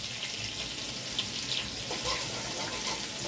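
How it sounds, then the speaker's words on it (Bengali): Potatoes with cardamom and garam masala powder fry in hot oil in a wok, giving a steady, even sizzle that stays close and fills the whole moment without any talk. "এখন কড়াইটায় তেল দিয়ে এবার আমি আলুটা ছেড়ে দিচ্ছি।"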